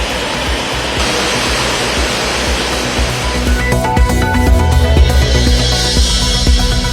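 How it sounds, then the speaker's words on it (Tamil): Old Courtallam waterfall with reduced flow, pouring as a steady, dense roar of rushing water that fills the whole stretch; soft tonal music enters partway through over the continuous wash. "பழைய குற்றாலம் அருவிக்கு நீர்வரத்து குறைந்ததால் ஓய்ந்தது சீற்றம்"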